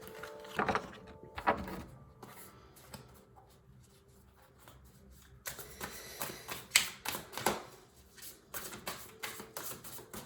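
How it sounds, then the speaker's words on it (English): Tarot cards are pulled and handled in a quiet room, making soft papery taps and brisk flicking rustles, scattered at first, then a denser run of close card snaps in the second half, with no talking. "I'm going to pull some cards to see if there's more clear direction on the approach that you should take"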